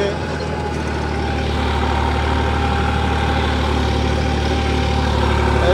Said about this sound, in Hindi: दूजे लो दे चल रहा है जिन्ना आम ट्रैक्टर का दूजा लो होता है।